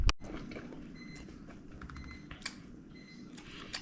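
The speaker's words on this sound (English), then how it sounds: "You can hear the alarm going off." A wireless meat thermometer alarm beeping after losing signal during a beef plate rib smoke, thin short electronic beeps repeating at intervals over faint background clatter.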